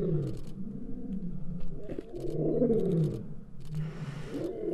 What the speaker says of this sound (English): And here go the lions singing.